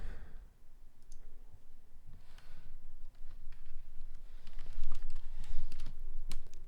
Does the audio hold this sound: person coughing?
no